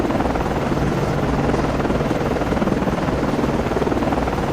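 Helicopter launching from the cruiser USS Valley Forge (CG 50) in the Cold Waters naval game, a steady, loud rotor roar with dense rapid blade chop throughout and no speech.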